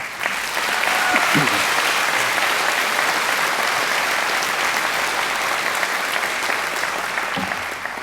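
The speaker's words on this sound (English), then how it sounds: "I think she deserves another great round of applause." A graduation ceremony audience giving sustained, dense applause for a singer, loud and continuous for several seconds with a brief rise at the start, filling the hall with no talk over it.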